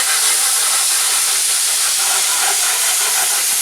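Tomatoes sizzling in a hot pan over medium heat, a steady, close crackling hiss with small pops throughout and no talking.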